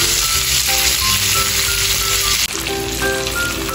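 Garlic and chicken sizzle steadily in a hot pan for chicken teriyaki, a loud continuous frying hiss broken by a brief scrape of stirring, with no talking.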